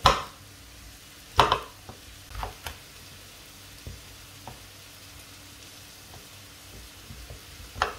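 A knife dices an aubergine into small cubes on a board for ratatouille, giving scattered sharp chops and taps with quiet pauses between them and low background hum.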